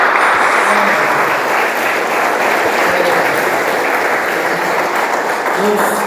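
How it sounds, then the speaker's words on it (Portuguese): Loud, sustained applause from a large church congregation during a service, a dense steady clatter of clapping hands filling the whole stretch without pause. "Você pode aplaudir o Senhor bem forte?"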